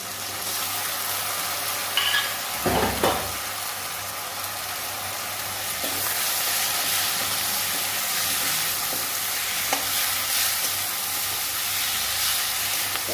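Potato and eggplant with green chilli and mustard paste frying in a pan, giving a continuous broad sizzle and hiss that swells in the second half, with a brief louder stir or clatter near the start; no speech.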